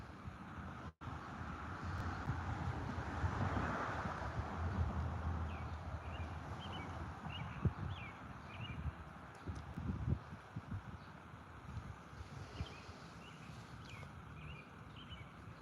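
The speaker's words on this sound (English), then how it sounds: "So much wind." Wind blowing steadily beside the Grand River during a fishing outing, a broad rushing roar with gusty swells and rumbles and faint bird chirps in the distance.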